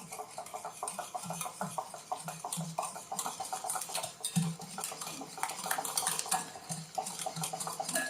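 Batter for orange basbousa with vanilla sugar being mixed in a bowl, rapid rhythmic clinking of a utensil against the bowl, close and steady, with brief pauses and background kitchen clatter.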